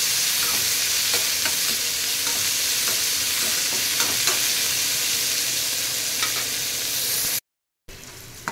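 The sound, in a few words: onions sautéing in a pan for ash gourd kootu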